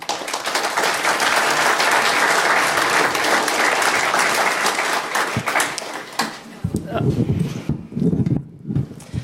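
Loud, dense applause from a conference audience at DEF CON 24's SE Village, welcoming a speaker to the stage. It rolls on for several seconds, then fades into scattered claps as a voice starts talking.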